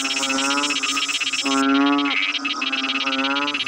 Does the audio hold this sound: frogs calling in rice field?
yes